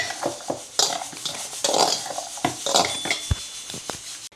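A spoon clatters and scrapes against a bowl while salt is mixed into chillies for a pickle, a quick series of close, irregular clinks and scrapes.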